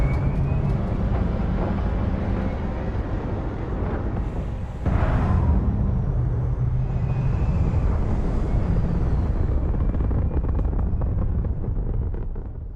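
Spaceship engine roar during takeoff in the video game Starfield, a loud sustained rumble that surges midway and keeps roaring throughout.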